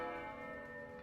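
A single bell sound effect rings out during a Dungeons & Dragons tabletop session, a resonant metallic tone that sustains and slowly fades, heard alone without talk.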